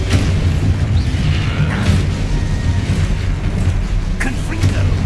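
The Exposo explosion spell in Hogwarts Legacy lands as a heavy, rumbling boom with crackling bursts, loud and close, over a steady layer of game noise and a voice casting spells.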